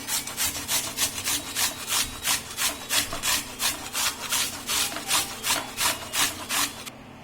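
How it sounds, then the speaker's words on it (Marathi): A beetroot is rubbed against a grater in a fast, even series of rasping strokes, about two per second, close and steady over several seconds. "सर्वात अगोदर आपण बीट किसून घेऊ"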